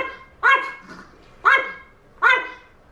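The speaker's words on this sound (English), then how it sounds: "He never ever used to bark before." Three loud, sharp dog barks with pauses between them, close by, against a quiet background.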